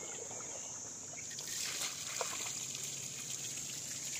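Water flows steadily from a 2100 W BLDC solar-powered pump drawing from a 500-foot borewell, making a faint, continuous hissing gush that swells slightly midway.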